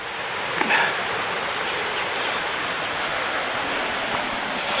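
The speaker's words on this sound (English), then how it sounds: "So this is the Widow's Falls" Widow's Falls, a waterfall in Stone Mountain State Park, North Carolina, roars as a steady, dense rush of falling water heard up close, with no voices over it.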